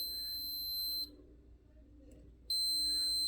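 Continuity tester beeping across a new, good dryer thermal fuse for a Whirlpool Duet Sport dryer: two steady high-pitched tones, each about a second long, separated by a short gap, moderately loud over low room hum.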